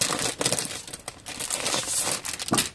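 Plastic packaging from a Bella Luna craft kit crinkles and rustles as it is unwrapped nearby, a steady run of crackling with a few sharper snaps and tearing bursts.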